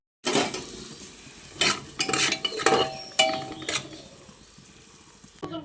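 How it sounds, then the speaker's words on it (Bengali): Goat meat cooking in a pot at home, with metal clanks and scraping as a spoon stirs it, spaced out over a soft sizzle that fades toward the end. "এখানে আমার মা এখন মাংস রান্না করছে পাঠার মাংস"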